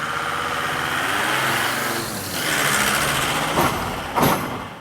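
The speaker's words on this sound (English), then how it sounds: "but I just gotta wait till all the trucks pass first." Heavy trucks roll past near abandoned Nazi bunkers in Ljubičevo, Serbia, a loud continuous engine rumble and tyre roar that swells and fades, ending with a couple of sharp air-brake hisses.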